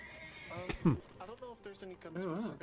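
Horses hitched in front of a wagon in a Western role-play video game whinny in a brief, shrill neigh, heard beneath people talking.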